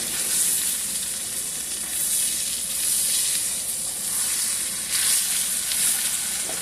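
A T-bone steak fries in a hot pan with black truffle butter, giving a loud, steady, close sizzle and crackle that carries on throughout without any talk.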